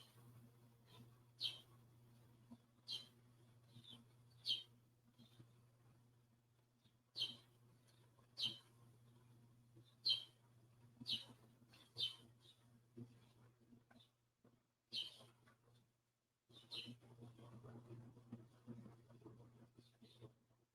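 Faint, high bird chirps repeat in short bursts from outside an open window, heard over a low steady hum and quiet room sounds.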